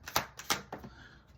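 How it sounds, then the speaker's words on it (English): Tarot cards being shuffled by hand, heard as a few quick, close, crisp riffling bursts that fade into a softer shuffle, with no talking. "You're seeing me shuffle these cards."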